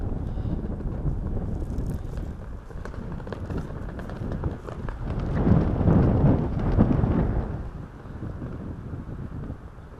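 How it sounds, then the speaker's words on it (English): Gusty wind roars across the microphone outdoors on a disc golf course at Freeman Park, Idaho Falls, loud and continuous, swelling into a stronger gust midway before easing off. "That's our current wind situation right there."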